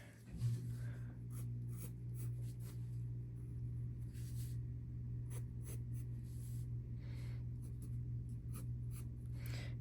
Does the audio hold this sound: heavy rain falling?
no